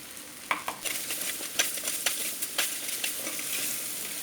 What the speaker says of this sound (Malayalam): അപ്പം നമ്മുടെ ചേന ആ എണ്ണയിൽ ചെറുതായിട്ടൊന്നിങ്ങനെ പൊരിഞ്ഞു വന്നിട്ടുണ്ട്